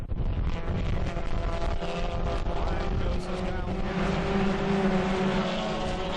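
Ministock race cars roaring around an oval track at The Big O, a dense, continuous engine drone with rising whine and wind rumble, steady and loud throughout, with faint commentary voice beneath.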